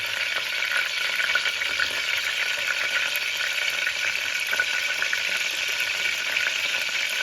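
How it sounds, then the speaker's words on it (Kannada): Hot cooking oil sizzles steadily in a pan while palav is prepared at home, a dense, continuous crackle with sharp spits, close and loud throughout with no talking. "ಸೊ ಈ ಥರ ಸೌಂಡ್ ಬಂದ್ಬಿಟ್ಟು ಚೆನ್ನಾಗೇನೆ ಕಾಯ್ದಿರಬೇಕು"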